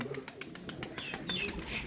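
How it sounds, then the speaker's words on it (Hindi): Pigeons at a rooftop loft, a teddy breed among them, give soft repeated coos and calls over a steady background hum. "यही कबूतर उड़ते हैं दोस्तों, देख लें।"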